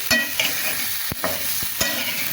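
Green chilies and green banana fry in a pan while being stirred: a steady close sizzle broken by several sharp scrapes and clicks of the utensil, with no talking.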